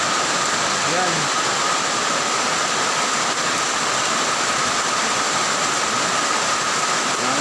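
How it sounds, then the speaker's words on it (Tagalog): Torrential rain drums down without pause at a deserted street stall, a loud, even wash of noise with a brief spoken word near the start. "Sa lakas ng ulan."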